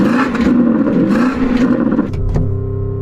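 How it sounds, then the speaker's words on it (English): A Porsche Cayenne GT engine revs hard and close by, its roar holding steady and then easing off toward a lower idle near the end, with no talking. "So I'm going to rev up this Porsche."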